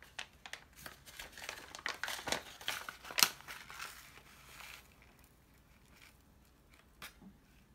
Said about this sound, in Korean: 마지막이니까 봉투를 잘라야겠네요.